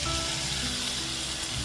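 Fried flat bean pieces sizzling in a hot pan with green chillies, a dense, steady, loud hiss that runs without a break.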